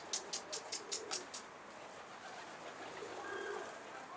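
Two stray pigeons fly around a rooftop, giving a quick run of sharp wing claps in a steady rhythm, followed by faint outdoor ambience with soft distant bird calls.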